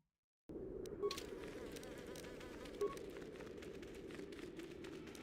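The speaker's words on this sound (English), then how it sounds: "it sounded like some flies were buzzing in my ear" Flies buzzing close by in the Star Wars KOTOR video game, a steady, dense insect drone that starts suddenly and holds for about five seconds, with two brief tonal blips along the way.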